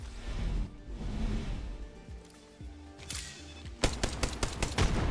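Gunfire in the video game Apex Legends during a tournament match: rapid bursts of automatic weapon shots crackle in the latter half, preceded by duller game sounds and impacts.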